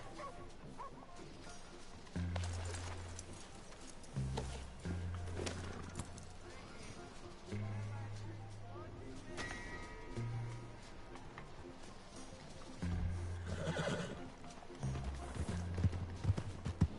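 A horse in Red Dead Redemption 2 clip-clops along while a dog barks and whimpers, with someone speaking over the loud game sounds.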